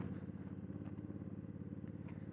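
Honda Africa Twin Adventure Sports motorcycle (2018) engine heard while riding, a faint, rapid, regular low thumping pulse over steady road and wind rumble, with no talk.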